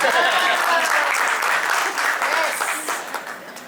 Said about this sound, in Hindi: प्राची का नाम आने के बाद तालियां होनी चाहिए.